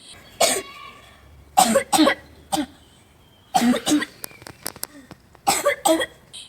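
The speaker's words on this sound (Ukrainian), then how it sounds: "він почав трохи кашляти більше, ніж ніж раніше" A child with an asthma flare-up coughs repeatedly in short bursts of two or three harsh coughs, close by, with quiet pauses between the fits.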